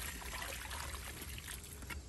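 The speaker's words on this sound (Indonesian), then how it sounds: "Nah ini kita siram sampai" Water poured from a scoop onto a guava plant growing in a planter bag, a steady splashing trickle that continues throughout and ends in a brief louder splash.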